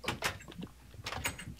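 A door opening in a video game arena, a quiet swishing slide with a couple of soft knocks, repeating twice about a second apart.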